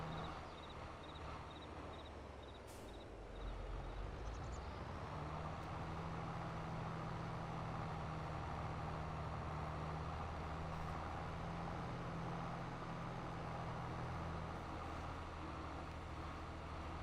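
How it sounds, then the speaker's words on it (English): A truck in Farming Simulator 22 runs with a steady, loud engine drone throughout, a sharper burst near the start before the low rumble settles into a continuous engine-brake growl. "I love the sound of those Jake brakes."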